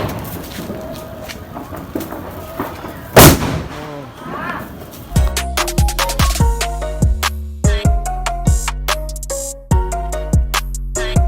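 A Diwali firecracker bomb bursts with one loud, close bang, followed by a rapid string of crackling explosions, while people shout nearby.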